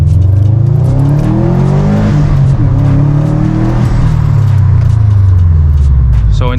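A Subaru WRX STI with a COBB Stage 1 tune accelerates hard at full throttle through first and second gear, its loud engine note climbing in pitch, dropping at the shift, then climbing again, close up.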